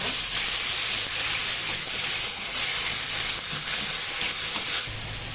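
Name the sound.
sautéing ground paste of green chilli, ginger, garlic, coriander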